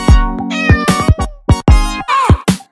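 A cat meows loudly and close by, giving about eight to ten short, tonal meows in quick succession with brief pauses between them.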